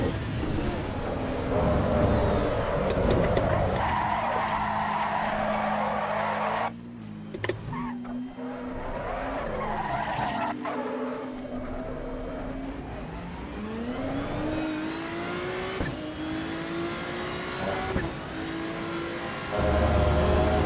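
Racing car in the Assetto Corsa EVO game skids and slides, continuous engine drone with whining tyre squeal rising and falling over about twenty seconds, loud and close throughout.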